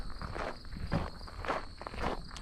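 Footsteps of someone walking outdoors, a faint, steady tread of soft crunching steps at an easy pace over a thin high insect-like hum, with no voices.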